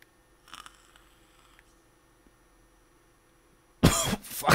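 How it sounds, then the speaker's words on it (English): A person coughs once, a short, faint burst, and after a quiet stretch a louder close cough or throat-clearing bursts out near the end. "Why does it make you cough?"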